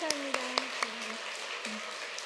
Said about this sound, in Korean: 다시 한번 감사의 박수를 드리겠습니다